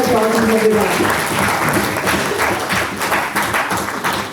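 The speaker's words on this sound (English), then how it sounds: "Please can we have a big round of applause from everyone." A hall audience gives sustained applause to welcome a doctor onstage at a health and Ayurveda event, the clapping dense and steady throughout, with a few voices briefly audible at the start.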